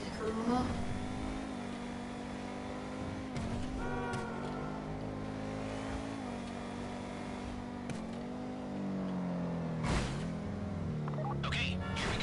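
In GTA V Online, a car engine hums and revs steadily on the way to the Kuruma, with a few sharper thumps and shifts, and voices chatter over it.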